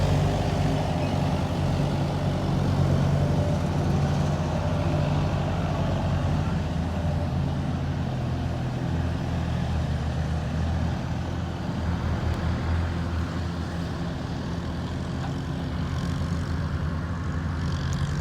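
A Kubota DC93G cabin combine harvester works through a field of crop, its engine giving a loud, continuous low drone with a mechanical rumble that stays steady for the whole stretch. No voices are heard.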